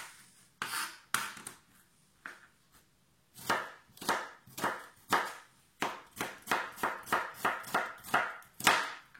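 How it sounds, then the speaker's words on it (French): A knife chops a large shallot into pieces on a board, with a few spaced cuts at first and then a quick, even run of crisp, close chops that sound alone with no talking. "Mon échalote. Voilà, pareil, je la coupe en morceaux."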